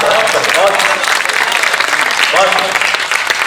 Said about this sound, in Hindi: तालियां बजाओ शेर